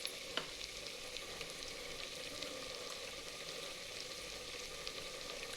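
Asafoetida and coriander powder fry in oil for palak pulao, a faint, even sizzle that holds steady throughout with one small clink near the start and no speech.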